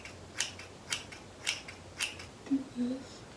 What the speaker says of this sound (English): Maybe I need to cut with my non-dominant hand. I don't even know how to hold scissors with this hand.